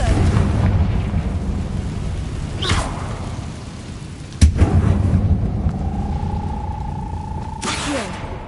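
The Confringo explosive spell in Hogwarts Legacy goes off with deep rumbling blasts and whooshing bursts over a steady low game rumble, including one sharp loud crack in the middle.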